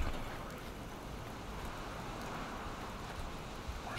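Steady rain in Fallout 4 falls as a broad, even hiss with faint scattered drops, continuous and moderately quiet, with no voices over it.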